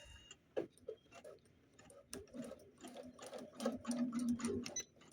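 A Janome Memory Craft 300e embroidery machine stitching at a steady, fairly quiet pace, with a soft repetitive mechanical ticking and a faint hum that grows slightly busier toward the end.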